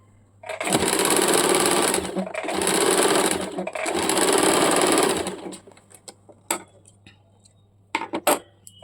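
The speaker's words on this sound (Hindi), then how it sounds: "इस प्रकार से एक साथ दोनों को साथ में लेके इस प्रकार से सिल के निकाल देना है।" A sewing machine stitches a baby umbrella frock in three long, loud runs of steady mechanical whirring, followed by scattered small clicks and taps as the fabric is handled.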